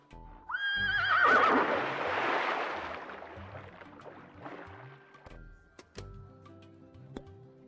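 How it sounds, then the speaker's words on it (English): A horse in the video game Lil' Guardsman whinnies loudly near the start, a long shaky neigh that fades into splashing water and a few scattered clicks. "Yes, I insist the horse get into the water."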